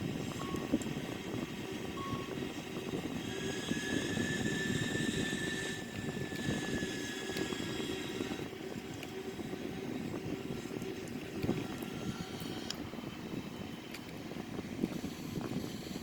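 Steady engine drone of an Airbus A340-313X airliner in a flight simulator game near Zurich International Airport, a continuous low roar with a faint rising whine, alone without talk.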